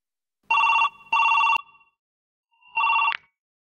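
Telephone bell ringing in an Assamese film scene, two close loud electronic rings followed by a pause and a third ring, clear and alone with no voices.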